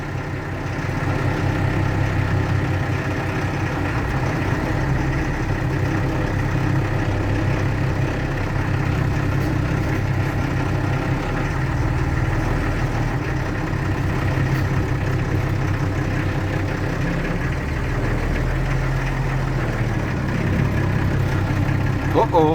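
A Mercedes-Benz LA328 truck pulling away in second gear out in the open, its heavy diesel engine rumbling low and steady throughout, with a person talking over the engine noise.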